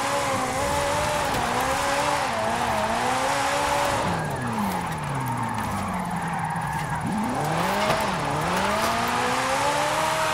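A 1962 Ferrari 250 GT Berlinetta Lusso in a video game, drift-tuned, revs hard through the gears, its engine note rising and falling in sweeping pitch changes, loud and continuous with occasional tire squeal underneath.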